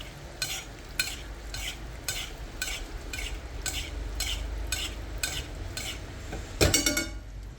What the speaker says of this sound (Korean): 베이스팅을 조금 천천히 할게요